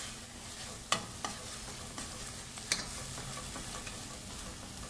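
Onions and tomatoes fry in oil in a pan with a soft, steady sizzle and bubbling, broken by a few sharp clinks and taps of stirring.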